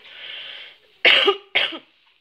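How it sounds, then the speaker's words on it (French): A breathy exhale followed by two sharp, close coughs in quick succession, fairly loud. "Excusez-moi, je vais tousser."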